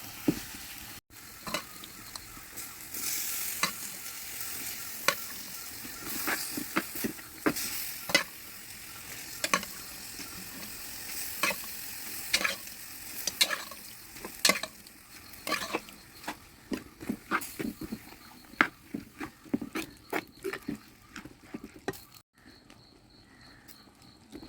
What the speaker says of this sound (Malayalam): ഇനി ഇതിലേക്ക് നമുക്ക് കടല ചേർത്ത് കൊടുക്കാം